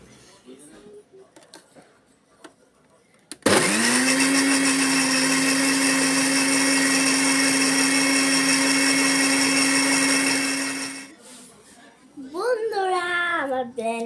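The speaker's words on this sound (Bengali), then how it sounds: "আমি এখন এগুলো ব্লেন্ড করব।" A blender whirring grapes and sugar into juice starts abruptly after quiet handling noises, then runs loud and steady for about seven seconds before winding down, with a voice speaking afterward.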